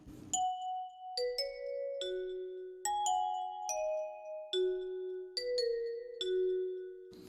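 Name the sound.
bell sounds from a plugg-n-b producer sound pack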